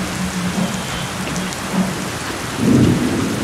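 Heavy monsoon rain pours steadily at the Sindhudurg fort beach under strong, cold wind, a dense continuous hiss with a louder low rumbling swell near the end.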